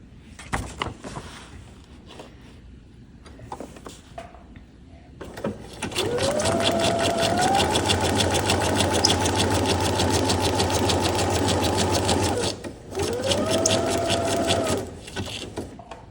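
A sewing machine stitches a seam through paper pages of a junk journal, running steadily for several seconds in a fast, even whir, stopping briefly, then starting again for a shorter run.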